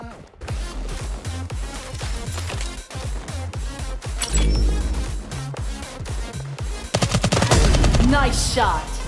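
Loud automatic weapon fire from the mobile battle royale game SIX.A Raider Mission rattles in rapid repeated bursts, growing denser and more intense toward the end.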